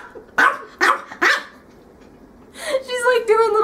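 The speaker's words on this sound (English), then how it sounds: "She's barking." A small dog barks three sharp times in quick succession, close and loud, followed by a drawn-out, higher-pitched vocal sound that could be a whine or a voice.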